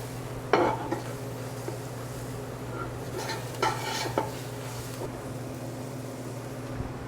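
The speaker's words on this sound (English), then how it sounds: "Now mix again." Garlic and vegetables with turmeric being stirred in a pan, heard as a steady background hum with a few sharp utensil clinks and soft scrapes spread through the stretch, no voices.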